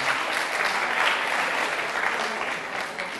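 A short burst of crowd applause fills the moment during a Catalan spelling quiz show, a dense, even patter of clapping at moderate level lasting about three seconds.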